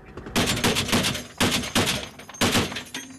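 Gunfire and explosions from a battle near a city, with mortars and homemade bombs, come as three dense, rattling bursts of rapid shots with heavy thuds, loud and close, and no voices.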